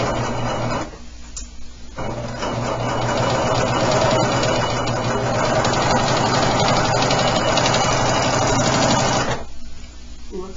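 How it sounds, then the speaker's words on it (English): A Husqvarna Huskylock 936 serger runs in serger mode with a fast, steady mechanical whir. The stitching hum holds for several seconds, with short pauses at the start and end. "Looks like she's serging beautifully."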